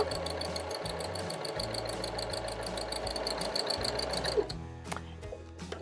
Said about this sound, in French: en appuyant sur la pédale, sans exagérer, je vais pouvoir faire mon point droit, ma couture